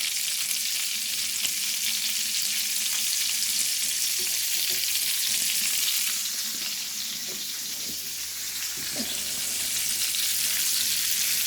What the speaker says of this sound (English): put a little bit of these onions in here to saute